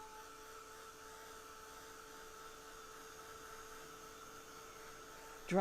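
A hair dryer blows on wet watercolor paint, giving a quiet, constant whirring hum that holds steady throughout before a brief louder sound at the very end.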